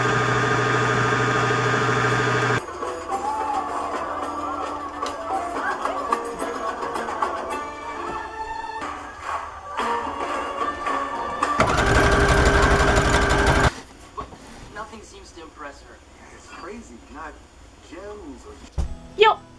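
Sewing machine winding its bobbin, a steady motor whir in bursts under pedal control, with one louder, harsher stretch midway; a person talks between runs.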